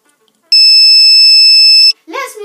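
Arduino active buzzer wired to 5 volts and ground gives one steady, piercing electronic tone lasting about a second and a half, then cuts off as a voice begins speaking.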